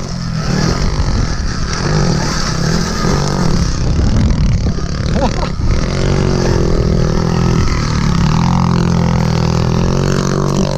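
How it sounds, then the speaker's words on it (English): A pit bike engine revving hard on a steep hillside trail with the clutch slipping, a loud, sustained rough drone with shifting pitch and some clatter, close-miked with heavy wind rumble, no speech. "Dude's burning up the clutch on that pit bike."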